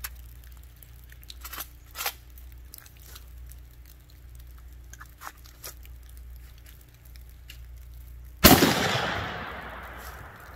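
A single rifle shot is fired through a LabRadar chronograph during velocity testing, a sharp loud outdoor crack with a trailing echo late in the clip after several seconds of faint handling clicks.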